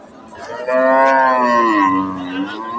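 A Friesian cross dairy cow at a cattle market gives one long, loud, close moo lasting most of the moment, with a faint crowd murmur behind it.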